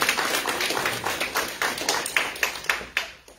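Small audience at the Edgewater Health ribbon cutting ceremony claps. The clapping is sparse and uneven, with distinct separate claps that thin out toward the end.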